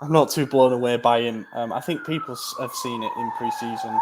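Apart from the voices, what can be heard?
police siren passing in London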